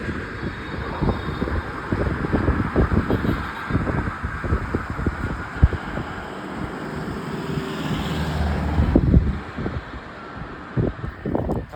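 Road traffic streams past nearby, with a continuous roar and repeated whooshes of passing vehicles, plus a louder swell near the end, all without talk.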